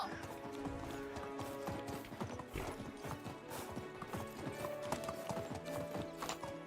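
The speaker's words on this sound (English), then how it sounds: "this horse is jumping" Rapid clip-clop of horse hooves trotting steadily in the video game Medieval Dynasty, with a faint whinny in the background and no talking.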